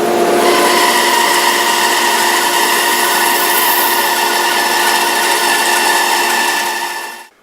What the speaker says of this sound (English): all I need to do is fire this up, push the material through, keeping it close to this fence, and I'll get a nice straight cut on that veneer.